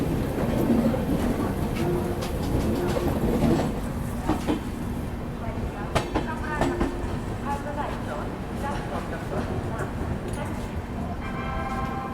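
The Mahamana Express pulling into Varanasi Junction station, a low rumbling train noise and station clatter heard under someone talking, with some tonal chimes near the end.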